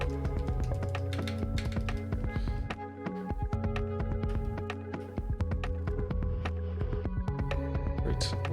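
Rapid, clacky keystrokes rattle away on a freshly built VAST60 mechanical keyboard with a 7U spacebar, close and continuous, with a bright percussive snap on each press and no talking.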